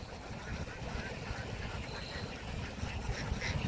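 A flock of domestic ducks raised on open water by local keepers, quacking in a busy, continuous chorus over a steady outdoor rumble, heard close and fairly loud throughout.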